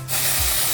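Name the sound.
dry shampoo spray being sprayed onto hair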